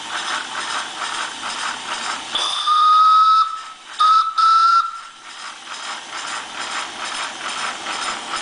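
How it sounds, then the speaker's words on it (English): Steam whistle on a Quarry Hunslet steam locomotive, two clear shrill blasts, the second split by a brief gap, cutting over a steady mechanical clatter and hiss close by. "Whistle sounds great."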